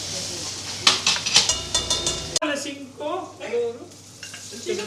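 Garlic sizzles in a pan for Filipino-style chicken biryani, crackling with stirring scrapes at first, then a voice speaks over softer frying.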